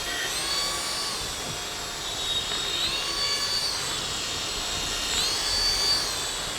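A hand-sensor toy helicopter with fiber wings whirs as it flies, a steady high-pitched motor whine that rises and falls in pitch several times, close by with no voices.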